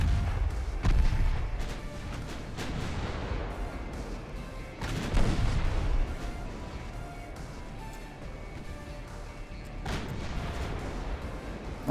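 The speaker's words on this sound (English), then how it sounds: "We just fired a torpedo at a dead ship" A warship fires a torpedo in a naval battle game, with deep booming launches and blasts at irregular intervals over a low rumbling battle ambience, moderately loud, no talking.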